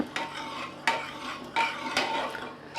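Cooked dal kootu is stirred in a metal pot, giving five or six distinct scraping strokes with clinks of the spoon against the pot, close and fairly loud with short pauses between them.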